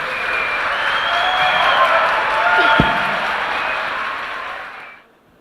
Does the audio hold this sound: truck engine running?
no